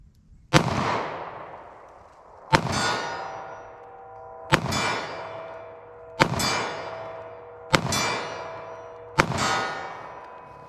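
A short-barrel .38 Special revolver fires six spaced shots, each followed by a ringing clang of rounds striking a steel target at a distance, the metallic tone decaying between the evenly timed reports.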